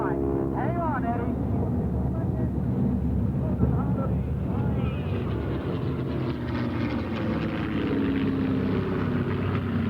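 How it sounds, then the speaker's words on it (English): A propeller airplane flying an airshow routine gives off a continuous droning engine rumble with shifting pitch as it turns. An announcer talks over it throughout. "It's the torque of the engine that's making the airplane turn around."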